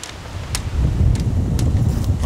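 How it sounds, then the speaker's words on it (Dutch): Strong wind gusts through a garden beside a house, a steady low rumble with buffeting microphone noise and a few brief clicks, loud and continuous throughout. "het waait behoorlijk"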